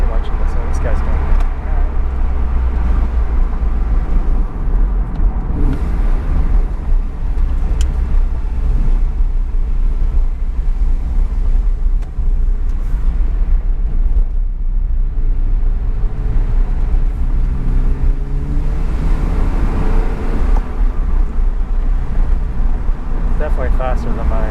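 A 2009 Porsche 911 (997.2) driving in rush hour traffic, a steady, heavy low engine and road rumble heard from inside the car for the whole stretch, with someone talking over it.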